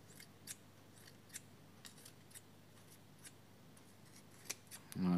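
Scissors snip a terrarium plant in a series of sharp, close, fairly faint clicks spaced irregularly over quiet background, ending with a louder rustle of handling.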